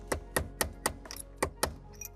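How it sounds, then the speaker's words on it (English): A metal punch struck by a hammer to drive back the ignition lock cylinder of a Fox Body Mustang: seven sharp, evenly spaced close-up blows in quick rhythm, with no voices. "I'm gonna take an appropriate size punch here. We're gonna see if we can't knock this"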